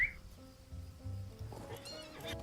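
A horse whinnies midway through in The Lord of the Rings Online, a high wavering neigh over soft background rumbles and faint hoof sounds.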